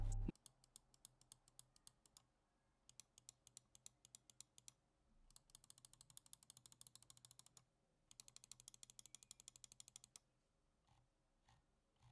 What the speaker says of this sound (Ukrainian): Саунд тест усіх кнопок ти можеш почути зараз на відео.